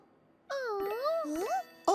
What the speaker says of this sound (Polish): Wtedy zadzwonił Tubi telefon.